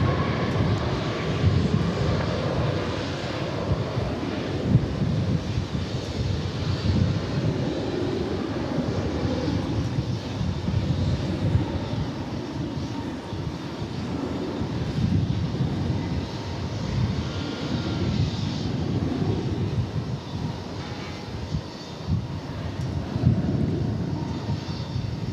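A passenger airliner takes off from runway 18 Left at DFW Airport, its engines a loud, steady roar that holds through the whole stretch with a broad rumbling low end and light wind buffeting, no talk over it.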